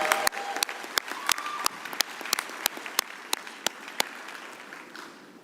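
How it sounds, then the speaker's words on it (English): Applause from an audience at an evening university graduation ceremony, a steady wash of clapping with distinct individual claps popping out, continuing for several seconds and fading slightly at the end, with no talking. "Let's give them another warm round of applause."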